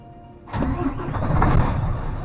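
A truck engine cranks and catches after a quiet half second, then settles into a loud, steady running rumble close by.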